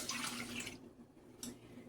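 Water is poured into a pot for cooking coconut rice, a soft splashing stream that fades and returns briefly, faint and close with no talk over it.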